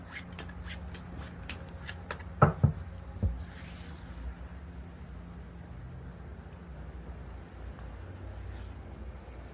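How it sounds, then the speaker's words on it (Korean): Tarot cards shuffled close by during a reading, a quick series of soft riffling flicks followed by a few louder taps and rubs, then quiet handling noise, with no talking. "마지막으로는 여러분에게 드리는 조언의 카드 한 장을 뽑아보고 리딩 마무리하도록"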